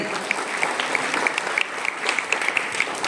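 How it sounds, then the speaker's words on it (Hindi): Steady applause from a seated audience at a religious jalsa gathering, dense continuous clapping with crisp individual claps standing out, filling the whole stretch without talk. "तालियों से इस बच्चे की हौसला अफजाई करें"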